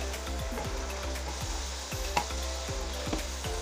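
Potatoes dropped into a hot pan for an aloo palak methi dish, a steady sizzle and fry with faint stirring scrapes and a small clink, close and moderately loud.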